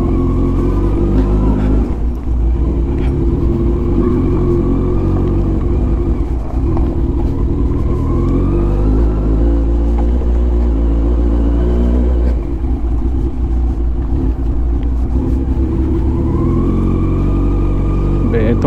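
A vehicle drives off-road through mud on rough ground, its engine rumbling loudly and steadily with occasional revving throughout, while voices talk over it.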